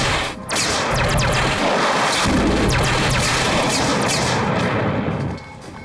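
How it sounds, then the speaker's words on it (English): A spaceship fires countermeasures in a sci-fi series, a dense sustained crackling barrage of bursts and blasts lasting several seconds, loud and close, then cutting off, with no voices over it. "Armed, firing countermeasures."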